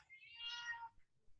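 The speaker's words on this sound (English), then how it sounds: "Was that your cat?" Nemo, a pet cat, lets out a single loud, drawn-out meow close by, rising and falling over about a second against a quiet room.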